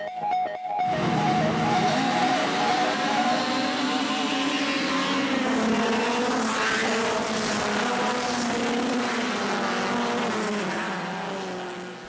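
Race cars in the Super series, among them a Fiat Punto and a Citroen Saxo, roar off the start at the Veliko Tarnovo circuit, a loud sustained wall of revving engines that rises suddenly after a second and stays dense, fading slightly at the end.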